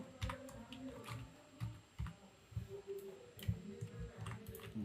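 Code is typed on a computer keyboard in soft, irregular bursts of quiet clicks and key taps, fairly faint and close, with no other sound over them.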